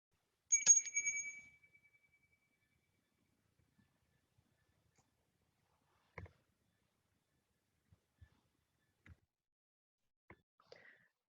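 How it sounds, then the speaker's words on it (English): A single morning bell opening a church service is struck once and rings clear and bright before fading within a second, leaving near silence broken only by a few faint soft knocks. "I invite you into sacred space and time with the sounding of the morning bell."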